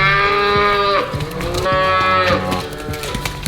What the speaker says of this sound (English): Go see some cows.